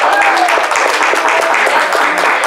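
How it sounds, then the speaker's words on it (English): An audience at a Super Password game show bursts into loud, dense applause that holds steady for a couple of seconds, with voices mixed into the clapping. "please give Credit Cast a lovely round of applause"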